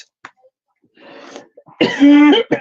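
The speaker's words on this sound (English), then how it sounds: "I've always got a dry cough." A person gives a few dry coughs and throat clears, starting with small faint breaths and ending in a loud, voiced cough burst close to the mic.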